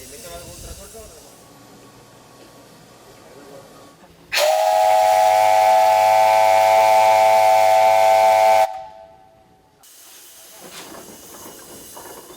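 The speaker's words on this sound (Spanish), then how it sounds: "que abra esa válvula y retire el vapor a la atmósfera" A loud, sustained hiss of steam blasting from the safety valve of a century-old, 12-ton steam tractor for about four seconds, with a whistling tone, between quieter mechanical idling.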